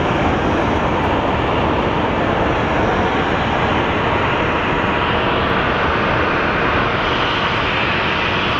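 An airplane at Phoenix Sky Harbor Airport produces a loud, steady, broadband engine roar that holds constant throughout, close and continuous with no talking.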